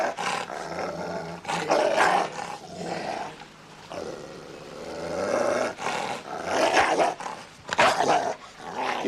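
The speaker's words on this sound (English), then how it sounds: "Not with that dog." A dog growling and snarling in long, loud, rumbling bursts that rise and fall with short pauses, close up and dominating, with no talk over it.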